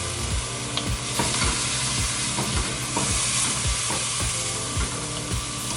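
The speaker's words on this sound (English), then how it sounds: "I'm going to add about half a cup of white wine just to deglaze the pan here a little bit as well" House-made dry Chardonnay white wine deglazes a hot pan while wine-braised pork cooks, giving a steady, close sizzle and hiss with regular scraping strokes from stirring.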